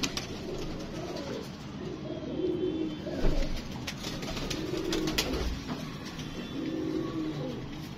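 A German golden pigeon coos in low, rolling phrases, repeated several times over steady faint background noise, close and without speech.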